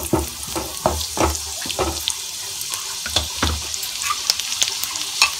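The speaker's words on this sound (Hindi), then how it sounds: "लहसुन डालेंगे, थोड़ा सा इसे हम फ्राई करेंगे।" Garlic frying in a small amount of oil in a kadai, with a steady crackling sizzle broken by repeated loud scraping strokes of a spoon stirring close by, no voices.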